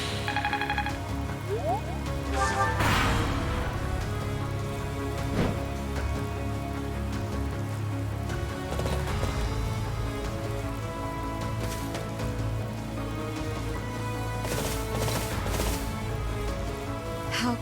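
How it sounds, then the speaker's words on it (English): Steady rain falling in the video game Fire Emblem: Three Houses, a continuous dense patter throughout, layered over sustained musical tones and occasional brighter splashes. "This rain."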